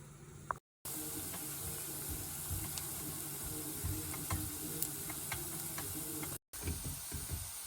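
Onions sizzling in hot oil in a pan, a steady close hiss running almost the whole time with faint stirring clicks and no voices.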